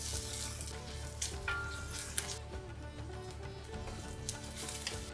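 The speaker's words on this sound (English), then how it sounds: "Let me add some salt and cook onions and garlic." Onions and garlic fry in ghee in a home kitchen pan, giving a steady close sizzle with small crackles and occasional stirring clinks, and no one talking.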